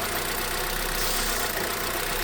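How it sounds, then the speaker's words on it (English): A Vauxhall Vectra-C with the Z18XER engine idles steadily close up, a continuous broadband hiss and faint sucking noise from a faulty PCV valve running under the engine drone. "I can hear a slight sucking noise from the engine bay."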